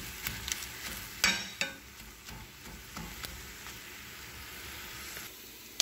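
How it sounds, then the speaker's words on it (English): Baby spinach cooks down in a pan with a quiet, steady sizzle broken by a few soft taps and clicks of a utensil, with no talking. "here's my baby spinach. And I'm gonna let that cook down a minute"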